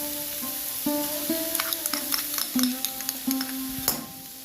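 Onions and capsicum stirred as they fry in a pan, a steady sizzle under repeated scrapes and clinks of the spoon against the pan, up close with no talking.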